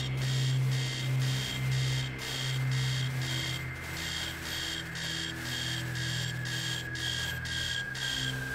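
An alarm clock sounds a repeating electronic beeping pattern at a steady rhythm over a low droning hum, fairly loud and continuous, with no talking.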